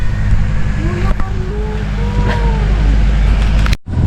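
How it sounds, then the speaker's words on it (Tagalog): A car backs up slowly on a narrow road, its low engine rumble close and steady throughout, with faint voices talking in the cabin. "Tapos kami naman papasok, kaya nag-atras na lang muna yung sasakyan namin."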